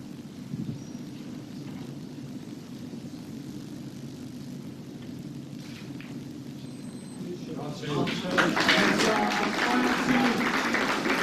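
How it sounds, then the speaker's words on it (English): Audience applause swells in the hall at the 1995 Embassy World Pool Championship ladies final, a steady dense patter rising after a stretch of quieter room noise and continuing loudly to the end. "Oh, everyone's applauding"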